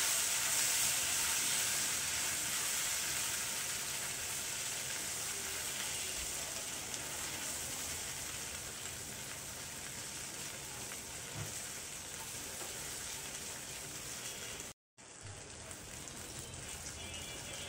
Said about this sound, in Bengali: আমটাকে আমি হালকা ভেজে নেব